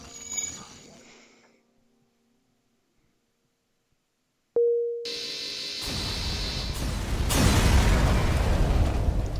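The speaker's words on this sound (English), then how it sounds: "Slavers go kaboom." A slaver ship blows up in the spaceship game FTL: after a brief electronic tone, a sudden burst erupts into a long, loud, crackling explosion rumble that swells and lingers.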